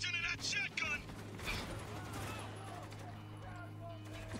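Gunfire in the video game Spec Ops: The Line, with a few sharp shotgun-like blasts early on, then a steady rumble of combat noise and low background drone; voices are heard briefly at the start.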